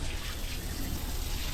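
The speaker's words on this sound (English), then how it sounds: "Stringer's hosing down the boat, desalting everything" A hose sprays fresh water over a boat to wash off salt, a steady close hiss and splash that runs without a break.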